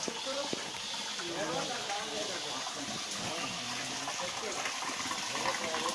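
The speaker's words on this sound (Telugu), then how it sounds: "భారీగా నీళ్ళు పడుతున్నాయి" Water pours from the hills into the sanctum of a cave Shiva temple, a continuous gushing rush that echoes close by while people talk over it.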